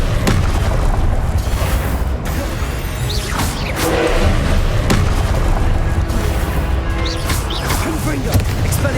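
Spell impacts in Hogwarts Legacy: repeated loud booming blasts and crashes with whooshes, packed densely and continuously, with a spoken voice cutting in among the explosions.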